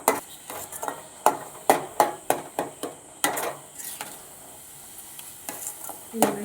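A ladle clacks sharply and rhythmically against a pan of hot oil, a run of close, loud strikes followed by a quieter stretch of steady sizzling and a few final knocks.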